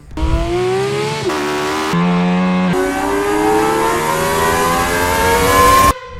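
A loud car engine revs hard to a high pitch, climbing through several gear shifts with brief dips, then cuts off at the end.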